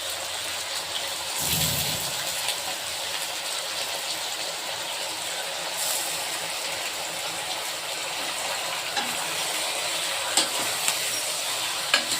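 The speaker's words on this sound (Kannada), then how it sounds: "ಮಟನ್ ಎಲ್ಲ ಚೆನ್ನಾಗಿ ಎಣ್ಣೆಯಲ್ಲಿ ಫ್ರೈ ಆಗೋಷ್ಟೊತ್ತಿಗೆ" Mutton pieces frying in hot oil for a spicy mutton curry give a steady, close sizzle that runs the whole time. A few clinks and stirring scrapes sit on top, with a brief louder splash of oil near the start.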